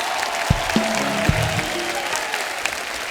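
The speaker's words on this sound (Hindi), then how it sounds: "दोस्तों, एक बार जोरदार तालियां हमारे मेहमानों के लिए हो जाएं।" Audience applause for guests on a televised comedy show, a steady wash of clapping from a studio crowd with a few sharp thumps and brief tones layered over it.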